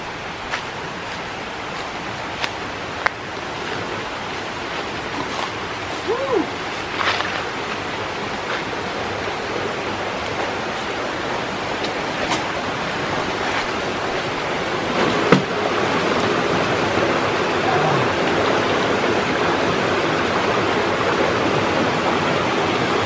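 A river flows near a campsite at I Skoven, Sendat, giving a steady broadband rushing wash of water that stays constant throughout, close and fairly loud, with no talking.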